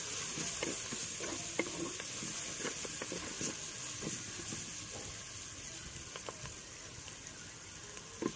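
Sliced onions sizzling in a pan with turmeric and salt as they are stirred for a fish kulambu, a soft continuous frying hiss broken by scraping stirs, close and fairly quiet.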